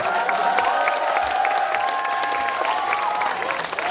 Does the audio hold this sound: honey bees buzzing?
no